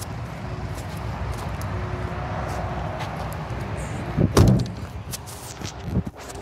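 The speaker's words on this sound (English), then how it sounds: "I'm going to shut the boot because that noise is irritating me" The boot lid of a 2010 Mercedes-Benz Sprinter 516 CDi minibus conversion shuts with one firm, nearby thud midway through, over a steady idling rumble, followed by a few lighter knocks.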